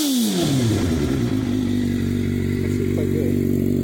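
A 2015 Suzuki GSXR 750 motorcycle engine fires up and settles into a loud, close idle with slightly uneven, loping cam pulses, running steadily throughout.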